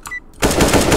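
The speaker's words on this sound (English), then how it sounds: "I guess I'll start off with an AK." AK rifle fire in CS:GO on Dust II deathmatch: after a brief quiet gap, a loud, sustained burst of rapid automatic shots rattles on close and continuous.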